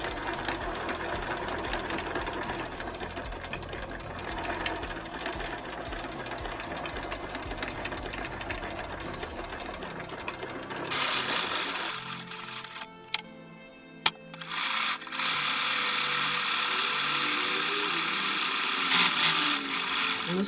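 A sewing machine stitches a blanket with a steady mechanical whir and ticking, a quieter hum at first that turns into a louder, brighter run later, with a brief click between.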